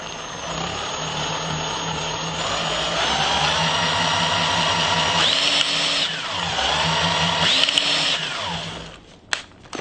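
A loud electric drill whirring continuously up close, its pitch rising and falling as it speeds up and slows, then cutting out near the end.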